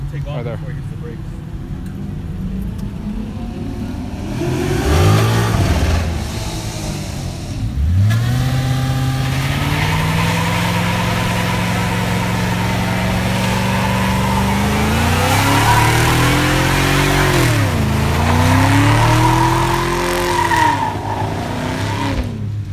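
A car accelerating hard from a launch on brand-new tires, engine revving and wheels spinning with rising and falling pitch, loud and close, with voices talking over it.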